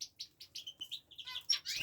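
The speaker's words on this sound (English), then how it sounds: "Up here are the other zebra finches." Zebra finches and canaries chirping in an aviary flight, a quick run of small, close, high tweets and calls coming one after another.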